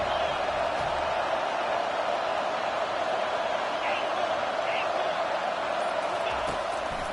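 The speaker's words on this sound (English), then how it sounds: "Decibels rising as the crowd gets behind this defense on 3rd down" A steady, dense roar from a stadium crowd in College Football 25, swelling behind the defense on a third down, loud and continuous throughout with no gaps.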